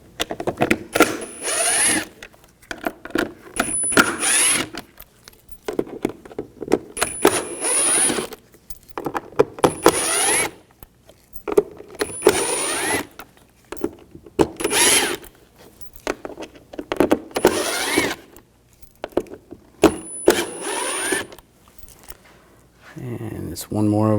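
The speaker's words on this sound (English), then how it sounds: "We're going to take these screws out. Use a T20 socket." Power driver spinning out screws with a T20 socket from an Audi A4 Quattro door panel, repeated short bursts of whirring between pauses, close and loud, with occasional handling noises.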